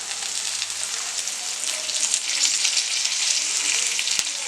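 Thoothuvalai greens hitting a hot pan give a steady, close sizzle with a dense hiss that holds for several seconds and swells slightly midway; no one talks over it.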